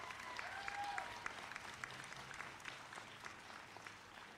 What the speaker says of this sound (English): Please join me in a round of applause for those 3 graduates.